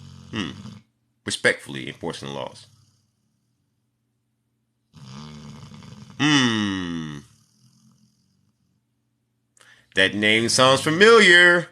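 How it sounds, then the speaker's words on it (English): Deep, rasping snores from a dog come in a few bursts between stretches of silence, with people talking before and after. "Who was snoring? That is my dog."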